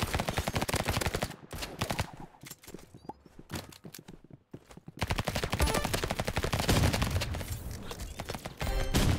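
A minigun in the Roblox Rivals video game, fired in long, loud, rapid-fire bursts that drop to sparse shots and a short lull midway before roaring back at full rate.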